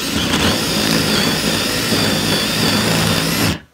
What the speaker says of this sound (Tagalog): Okay guys, si combo drill Makita. Gamit tayo ng hole saw.